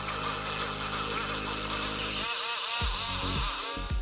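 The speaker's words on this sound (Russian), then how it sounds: "Выпиливать отверстия я буду при помощи лобзика и вот таких пилок для криволинейного чистого реза." A jigsaw with fine curve-cutting blades sawing holes in a kitchen cabinet panel for a range hood, a loud close buzzing whine that steadies, then drops in pitch with repeated pulsing strokes as the cut continues.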